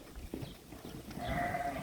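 Sheep kept for milk on a farm bleat several times over steady background noise, the calls close and moderately loud.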